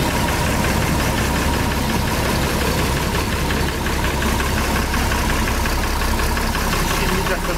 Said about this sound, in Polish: Posłuchamy sobie silniczka jeszcze.